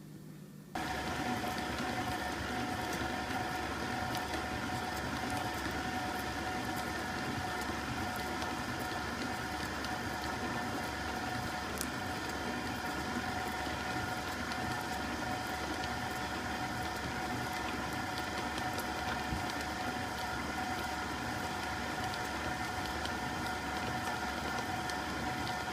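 KitchenAid stand mixer blending flour and butter for a white vanilla cake, a steady continuous motor whir with a faint rhythmic churning that runs unbroken at even loudness after a brief start.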